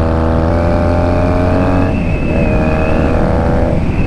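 A Honda Rebel 250 motorcycle cruising along a road, its small engine giving a steady, loud, close drone mixed with wind rush, the pitch dipping and rising slightly as the throttle changes.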